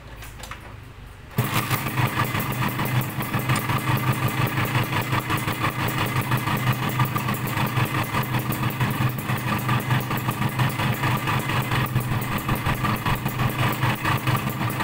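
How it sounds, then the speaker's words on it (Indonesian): A Suzuki Satria two-stroke motorcycle with a DBS aftermarket exhaust idles close by. After a quieter opening second it settles into a loud, raspy, steady burble with a rapid pulsing beat that continues throughout. "efeknya seher agak berisik nih. Mau tahu berisiknya kayak gimana nih?"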